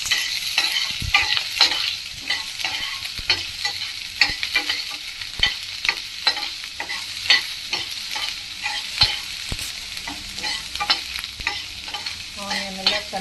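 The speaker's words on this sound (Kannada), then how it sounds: "ಆನಿಯನ್ ಎಲ್ಲ ಚೆನ್ನಾಗಿ ಸ್ವಲ್ಪ ಗೋಲ್ಡನ್ ಬ್ರೌನ್ ಬರೋ ತನಕ ಚೆನ್ನಾಗಿ ಬೇಯಿಸ್ಕೊಳ್ಳಿ" A medium onion frying in a pan until golden brown: a steady sizzle broken by frequent, fairly close scrapes and taps of a spatula stirring, with a regular rhythm throughout.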